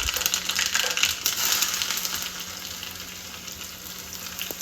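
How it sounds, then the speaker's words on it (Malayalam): Mustard seeds sizzle and crackle in hot oil in a pan, a dense frying hiss with scattered popping ticks that is louder at first and then settles, with no talking. "കടുകിടും."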